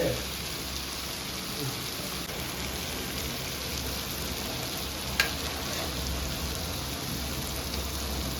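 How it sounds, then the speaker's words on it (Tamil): Steady, even hiss of rain falling without pause in Chennai, with one brief sharp tap partway through. "மழை மழையா வருது"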